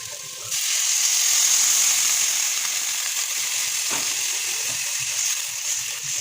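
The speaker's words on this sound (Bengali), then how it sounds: "এই গরম জলটা আমি এখন ঝোল দিয়ে দেব।" Hot water poured into a pan of sautéed soybean curry: a sudden, steady hissing sizzle that starts abruptly and continues evenly, gradually easing toward the end.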